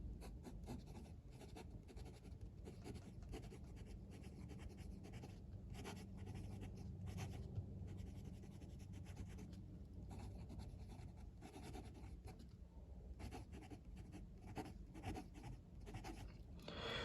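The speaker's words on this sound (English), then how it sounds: "Let's do a writing sample." Nib of a Pilot E95s fountain pen moving across paper, a faint, close scratching with the slight feedback of a Japanese nib, in continuous strokes broken by brief lifts for about seventeen seconds.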